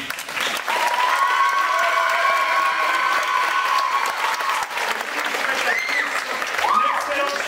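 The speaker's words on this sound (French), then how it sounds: "on l'applaudit" A theatre audience at an international dance workshop breaks into sustained applause, loud and continuous, mixed with cheers and scattered shouts and a voice calling out over the clapping.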